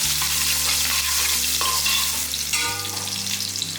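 Curry leaves, ginger and crushed garlic frying in hot oil in a pan, a loud close sizzle with stirring scrapes and a shift in the hiss partway through, no voices.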